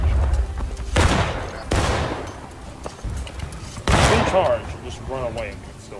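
Several loud, sharp rifle volleys crack out in War of Rights, a Civil War-era video game battle at Bolivar Heights, with broadband bursts near 1 s, 1.7 s and 3.9 s amid background clatter and faint voices.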